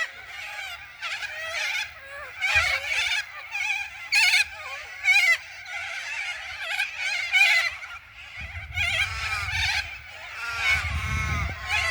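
A flock of white parrots squawks and fights outdoors in a harsh, raucous chorus of overlapping screeches and calls, loud and nearly continuous, with low rumbling bursts toward the end.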